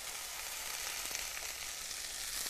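Onion fries in hot oil in a frying pan, making a quiet, even, unbroken sizzle that holds steady throughout, heard close with no voices or stirring.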